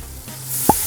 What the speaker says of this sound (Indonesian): Baru kita masukkan santannya sekarang.